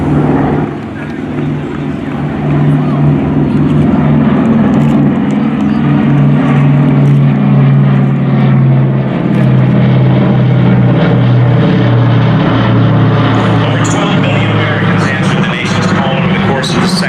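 A B-29 bomber flies over with its propeller engines giving a deep, throbbing drone that swells and slowly shifts pitch over several seconds, heard loud and near beneath a continuous narrating voice.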